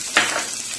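Onion, green chilli and curry leaves are sautéed in hot oil for a bonda batter, a brief sizzling hiss that flares suddenly and then settles into a steady, close frying crackle.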